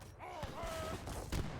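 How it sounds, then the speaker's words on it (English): Heavy cannon firing in the real-time strategy game Age of Empires III during a battle, with sharp booming shots and a burst of gunfire under the game's ambient sound effects. "Okay, heavy cannon."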